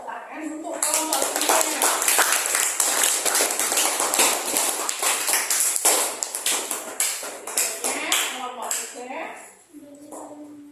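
A school class applauds a student group as it starts presenting, with sustained, dense hand clapping over about eight seconds that swells and then tapers off. Voices are heard at the start and end.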